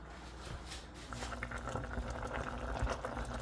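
Pineapple cake filling boiling in a pot, a close bubbling and gurgling simmer that thickens and grows slightly louder over the clip, no voices.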